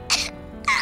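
A little boy's cough in an animated cartoon: two short, sharp bursts separated by a brief pause, close and fairly loud.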